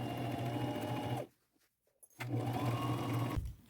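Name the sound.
sewing machine straight stitching pants pocket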